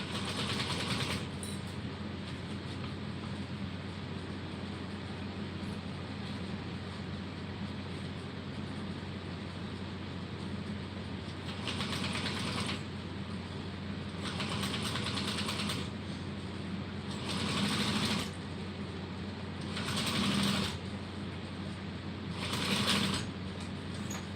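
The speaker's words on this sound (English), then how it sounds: "I'm just going to make my way all the way down, top stitching, making sure everything stays nice and even." A sewing machine runs steadily while top stitching along a bag, with a constant motor hum and bursts of faster stitching that come and go in short runs near the end, no talk.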